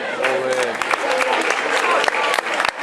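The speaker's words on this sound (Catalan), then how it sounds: "Un fort aplaudiment." A school Christmas show audience breaks into applause for a student performance, clapping layered with lively voices and cheering, loud and close, mixing crowd chatter with bursts of hand claps throughout.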